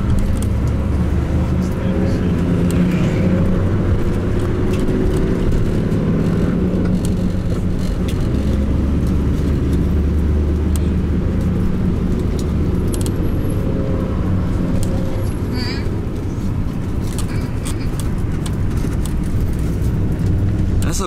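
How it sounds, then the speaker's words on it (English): Large police military vehicle drives past on a beach-side road in Dakar, Senegal, its heavy engine rumble continuous and loud under steady road and wind noise. "Big police military vehicle."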